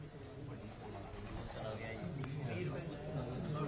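A pigeon walking on the net over a rooftop gives soft, low cooing calls, faint and partly buried under steady background noise and speech.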